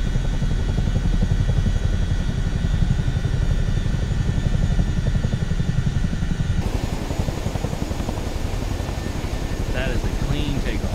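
A CH-47D Chinook helicopter lifts off in Microsoft Flight Simulator 2024, its heavy rotor thump and turbine roar loud and steady throughout, the tone shifting partway as it climbs away.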